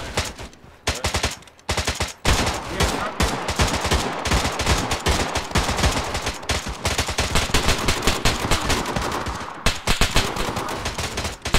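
Arma 3 gunfire in the form of dense, continuous rapid shots and machine-gun bursts, loud and near. There are brief gaps near 1 and 2 seconds, and a short lull near 9.5 s.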